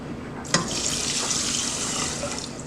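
Two cups of water pour steadily from a tap into a pot for cooking rice, a continuous close rushing splash with a small knock near the start.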